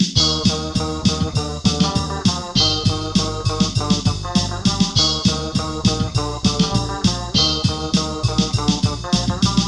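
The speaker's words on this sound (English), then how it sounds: "It sounds like a Russian post-punk song" Homemade post-punk song in a Russian post-punk style, with a steady drum beat, guitar and organ playing full and loud throughout with dense rhythmic hits and sustained chords.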